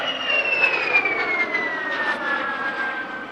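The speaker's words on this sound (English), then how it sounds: "Vampire T.11 WZ507 from the Vampire Preservation Group at Coventry, making its first flying display appearance since 2014." A de Havilland Vampire T.11 jet, WZ507, roars past during a flying display at an air festival, a loud continuous whine with a slowly falling pitch as it passes.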